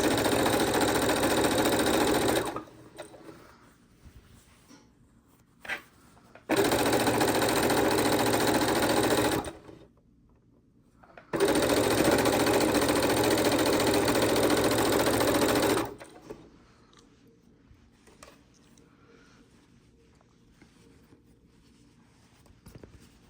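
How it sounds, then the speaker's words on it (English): A sewing machine stitches scrappy quilt blocks together in three loud, steady runs of close motor whir and needle clatter, separated by short pauses with faint handling noise. "We can sew these together."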